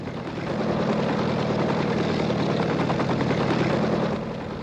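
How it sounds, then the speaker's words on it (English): A helicopter's rotor thrum and engine drone hold steady and loud for a few seconds, a continuous chopping hum passing overhead as it comes into Waterloo Air Terminal. "Helicopter coming into Waterloo Air Terminal."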